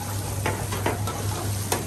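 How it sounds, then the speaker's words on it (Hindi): Onions fry on a hot surface at a roadside dhaba near Ana Sagar in Ajmer, a steady loud sizzle with a few scraping stirs over a low constant hum and no talking. "देखिए प्याज पे ये भून रहे हैं।"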